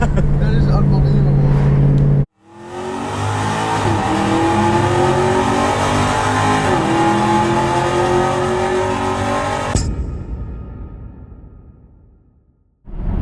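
A 2012 Camaro SS drag car with a large single 88mm turbo roars up in a long, loud rev with a rising turbo whine, then cuts off abruptly and fades away.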